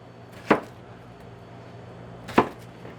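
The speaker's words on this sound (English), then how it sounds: "Onions are very easy to cut." A knife slicing through a red onion on a cutting board, two distinct, sharp chops about two seconds apart against a quiet background.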